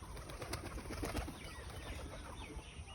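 Racing pigeons coo softly in a quiet, ongoing murmur, with faint wing rustling mixed into a low, distant-sounding backdrop.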